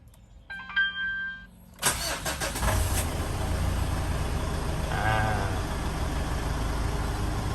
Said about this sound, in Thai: เดี๋ยวเราไปสตาร์ทรถกัน